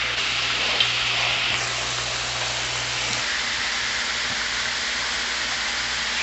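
Homemade french fries deep-fry in hot oil with a dense, steady sizzle and crackle that stays loud and constant throughout, with no talking.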